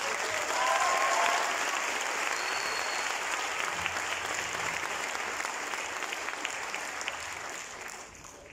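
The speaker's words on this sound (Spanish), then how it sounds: "El apoyo de ellos, el aplauso de ustedes, Pablo y Maxi, por siempre." Sustained audience applause at a carnival show, a dense, even wash of clapping from a large crowd that holds steady and slowly fades toward the end.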